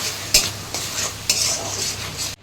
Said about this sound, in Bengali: টমেটো পেস্টটা এটা দিয়ে দিচ্ছি। ভালো করে মিশিয়ে নিচ্ছি।